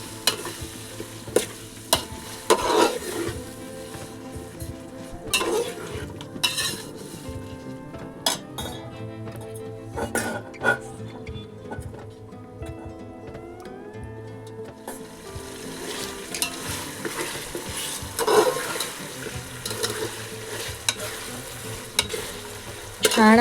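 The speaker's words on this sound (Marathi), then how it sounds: "असं मस्त व्यवस्थित आपल्याला मटण तेलामध्ये छान परतून घ्यायचं आहे" Steady stirring and frying of mutton in oil in a pan, with frequent clinks of a spoon against metal over a continuous sizzle, close up.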